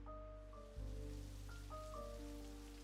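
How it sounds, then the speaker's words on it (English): Rain falls steadily in the farming game My Fantastic Ranch, a continuous soft patter under sustained game-music tones that swell slightly partway through, with no voices. "Shy Guy hears the rain falling"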